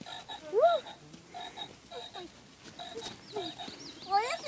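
Frogs croak at a pond where tadpoles are kept, several short rising calls scattered through the clip, fairly close and moderately loud, with a few brief chirping calls near the end.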